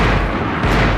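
Loud, dense gunfire booms close up in the Max Payne 3 video game as long-range shots pour in, forming a continuous heavy blast for about a second.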